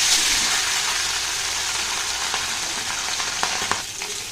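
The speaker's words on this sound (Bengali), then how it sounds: "মাছটা ভেজে নেব। দেখো কড়াই দিয়েছি সর্ষের তেল," A piece of rohu fish fries in hot mustard oil in a kadai, producing a steady close sizzle with occasional louder pops and crackles, no voices.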